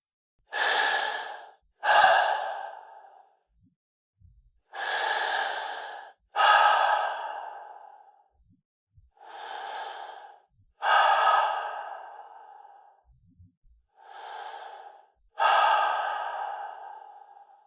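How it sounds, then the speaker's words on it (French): Eight slow, drawn-out human breaths, each a soft airy rush lasting about a second, spaced by short silences, close and unaccompanied, used as an unsettling psycho-horror podcast effect. "J'ai remarqué le schéma dans ma respiration, pour la première fois, il y a 2 mois."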